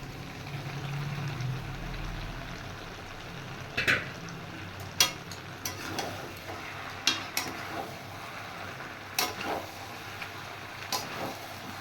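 Fried jackfruit tipped into a pan and stirred with a mutton dish, giving a low background sizzle broken by a series of sharp scraping and clinking strokes of the spoon.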